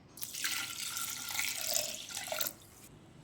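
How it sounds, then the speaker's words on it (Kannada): Water is poured from a cup into a pressure cooker for wheat rava payasam, a steady splashing, trickling stream lasting about two seconds, close and fairly loud, then stopping. "ಅದೇ ಕಪ್ಪಲ್ಲಿ 3 ಕಪ್ ನೀರು ಸೇರಿಸ್ಕೊತಾ ಇದ್ದೀನಿ"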